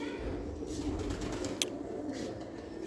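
Pigeons coo in a steady low murmur from a loft of pearl-spotted pigeons at a home, with a brief sharp click partway through and no talk.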